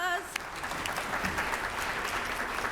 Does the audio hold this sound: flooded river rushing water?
no